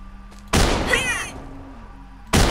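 Gunfire in Day One: Garry's Incident, with a sharp, loud shot burst followed by a ringing tail, then a second abrupt blast at the end.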